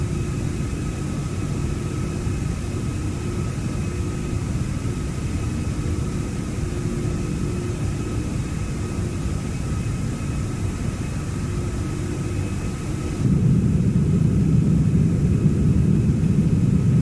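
Simulated ToLiss A340 airliner engines climbing after takeoff in a flight simulator game: a loud, continuous jet drone with thin tonal whines, the low rumble swelling heavier for the final few seconds.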